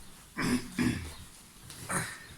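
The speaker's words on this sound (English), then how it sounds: "Let's get our coughs out of the way first" Two quick throat-clearing coughs close by, then a pause and a softer third one.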